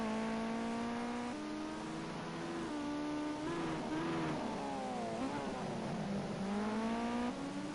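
Ginetta GT5 Junior race cars scream around Azure Circuit, with engines revving and changing pitch through gear shifts as they pass, loud and continuous, with no voices over them.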